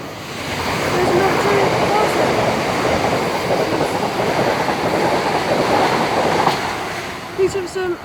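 A train passing through Hampden Park station, a loud sustained rumble and rush of wheels on rail filling most of the span, easing slightly near the end with faint clanks.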